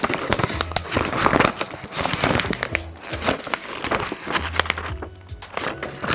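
A sheet of paper is crumpled up close during a children's speech therapy listening exercise, giving a continuous dense crinkling and crackling that runs through with brief pauses.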